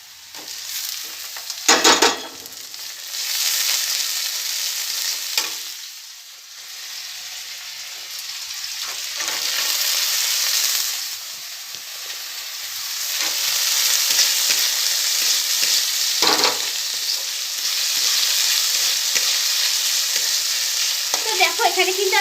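Potatoes sizzle and fry steadily in a pan on a rooftop while being stirred for a methi (fenugreek greens) dish, with occasional scraping clatters of the spoon over a continuous close hiss.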